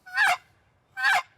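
A turkey call imitates an excited hen turkey, giving two short, nasal, honking yelps about a second apart. Each is loud and close, with near silence between them.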